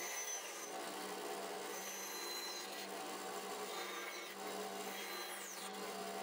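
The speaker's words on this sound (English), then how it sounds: "I can take it over to the bandsaw and I can cut the knob out" A bandsaw cuts a wooden knob out of a workpiece in a shop, a steady close whirring blade with continuous rasping of wood throughout.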